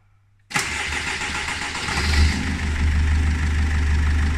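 After a brief silence, the 2003 Mercedes Sprinter 213 CDI diesel engine cranks and catches abruptly, then settles into a loud, steady, rumbling idle close by.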